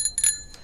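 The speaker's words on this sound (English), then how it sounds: "The scooters are currently fitted with a bell that sounds like this." An e-scooter's bright metallic bell rings in two quick dings followed by a fainter third, close and clear with nothing else around it.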